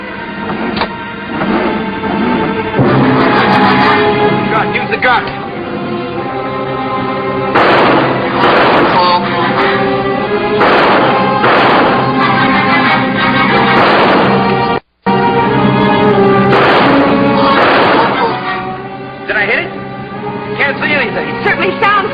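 Repeated gunfire in a 1957 science-fiction film as characters shoot at an alien, loud bursts scattered across the scene and mixed with a dense orchestral score and voices.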